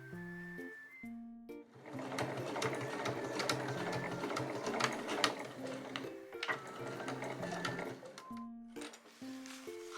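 A sewing machine stitches a key-ring tab onto a Marimekko fabric pouch, running in a continuous mechanical whir for most of the clip, framed by short tonal beeps and electronic tones at the start and end.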